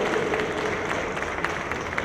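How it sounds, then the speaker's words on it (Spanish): An audience applauds a departing doctor at a panel discussion on accountability networks and systems, a short burst of steady, dense clapping heard indoors from within the room. "Un aplauso, por favor, al doctor, que se tiene que retirar también."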